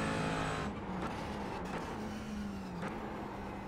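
A McLaren 570S GT4 race car engine in the iRacing video game drones steadily at high revs, its pitch holding nearly level with a few brief gear-shift dips, with no talking over it.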